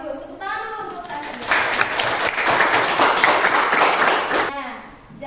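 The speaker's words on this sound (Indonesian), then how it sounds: "Tepuk tangan dulu untuk saya." A class of students claps hands together in a classroom, a dense burst of applause lasting about three seconds, with a voice and talk just before and after.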